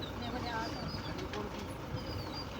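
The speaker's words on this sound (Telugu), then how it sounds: "పక్షులు అరుస్తున్నాయి" Birds call and coo in dense woodland in the Nallamala forest, soft and somewhat distant, with people talking quietly over a steady outdoor hum.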